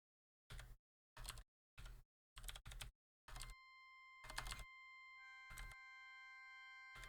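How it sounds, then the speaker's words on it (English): Sharp, crisp clicks of mechanical keyboard keys come in short separated bursts, some keys doubled, against otherwise quiet background with a faint electronic hum later. "I got a new clicky keyboard and it's fantastic."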